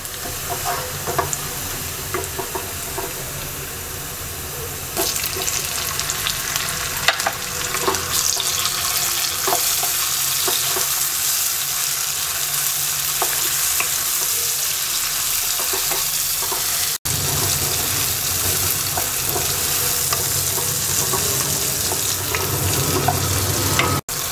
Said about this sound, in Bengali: এবার টমেটো কুচি দিয়ে 2 মিনিট ভেজে নেব।